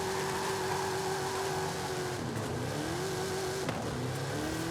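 A car in a Forza Horizon street race spins its wheels and revs hard while fighting for traction, the engine note climbing, dipping and rising again, loud and close with no voices.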